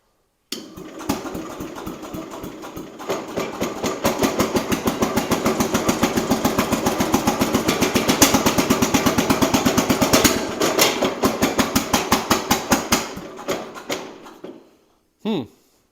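A Jacobsen Chief 800 garden tractor engine cranks, catches and runs at a steady idle for several seconds, loud and close, then cuts out, followed by a short burst near the end.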